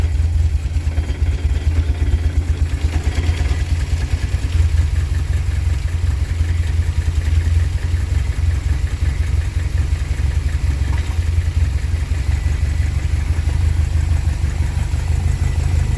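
A Talbot Horizon car engine fitted with motorbike carburettors idles steadily and loudly, a continuous low rumble with slight clatter running unbroken throughout.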